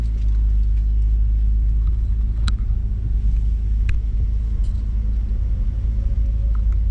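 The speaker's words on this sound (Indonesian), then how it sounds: "langsung aja gua akan test drive mobil ini" Cabin sound of a 1995 BMW E36 320i automatic with the M50 engine, driving on the road: a steady, loud low engine and road rumble holds throughout, with a few faint clicks and knocks on top and no talking.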